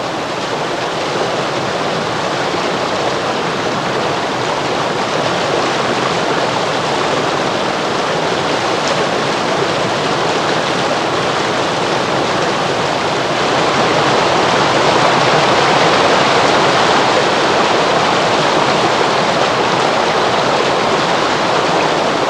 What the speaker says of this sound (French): On est en aval de la cascade Charlemagne